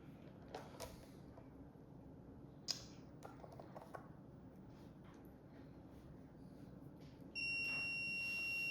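A multimeter gives a steady continuity beep while a Kenmore sewing machine knee speed controller is checked for a voltage leak. The beep starts near the end and holds, after quiet handling noises and small clicks.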